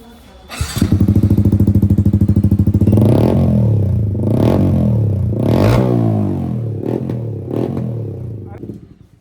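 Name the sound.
Yamaha MT-15 motorcycle revving with aftermarket exhaust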